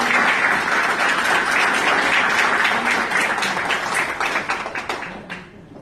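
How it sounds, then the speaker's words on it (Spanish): Audience applause at a university conference on the search for missing persons in Tlalnepantla, State of Mexico: dense, steady clapping from a full room that thins out and fades near the end. "si le pueden dar un aplauso"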